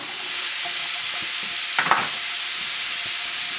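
Celery and onion sizzle steadily in a pot, a continuous broadband frying hiss with a couple of brief stirring clinks and scrapes near the middle; no voices.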